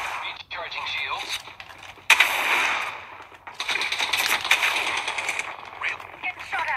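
Gunfire crackles in the Apex Legends video game, bursts of automatic shots that stop and start, with in-game character voices speaking between the volleys.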